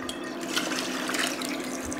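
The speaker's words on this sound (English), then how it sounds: "I'm gonna take my water and wash this out." Steady running water rinsing leftover tomato out of a can into a pot of tomato sauce for meatballs, a continuous close splashing wash with no voices.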